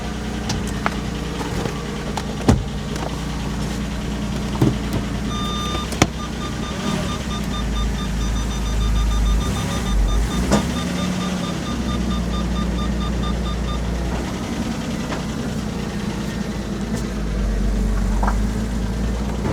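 A Porsche Boxster S 986 idling steadily as it is driven out of a garage after an oil service, a low, constant engine hum close by with a few faint knocks and a brief electronic beeping, with no talking.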